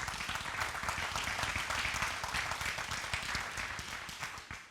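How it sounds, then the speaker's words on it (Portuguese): A church congregation at a conference worship service applauds together, a steady, dense wash of many hands clapping that holds at an even level from start to finish with no voices standing out. "vamos dar um aplauso ao Senhor"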